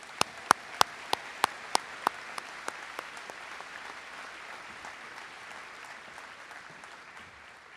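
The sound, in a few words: applause for senior athletes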